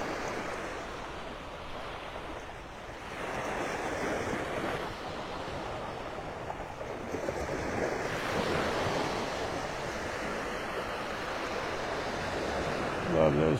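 Ocean waves wash steadily onto a mile-long beach on an early morning, a soft, continuous surf hiss with gentle swells and light wind, heard alone at moderate distance.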